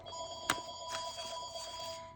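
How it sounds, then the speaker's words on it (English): A telephone rings indoors in a crafting room, a faint electronic ring that begins with a sharp burst and then trills softly in the background, with no talk over it. "sorry about the phone"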